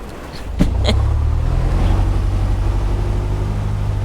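A Piper Cherokee 180 engine in a flight simulator, with a fouled spark plug, hums steadily and loud, with a few sharp clicks near the start before the low rumble settles into a rough, uneven idle.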